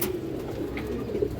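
Pigeons, a pure pair kept for sale in a loft, coo in a low, steady, continuous murmur with no talking.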